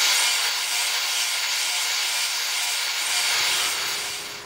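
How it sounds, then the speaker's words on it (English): A wooden wand pressed against a spindle sander, giving a steady, loud abrasive hiss and whir that runs throughout and fades at the end. "I'm going to continue to shape our wand over on the spindle sander a little bit."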